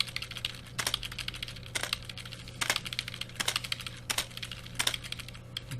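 Typing on a computer keyboard, a quiet run of close clicks with regular spacing and occasional louder bursts of quick key presses.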